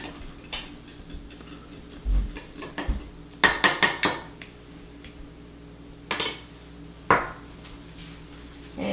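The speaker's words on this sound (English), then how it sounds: "you're just going to mix these together with a fork" A fork clinks and taps against a bowl while mixing flour and egg for homemade pasta, a scattered series of close, bright metallic ticks with a quick cluster in the middle and no talking.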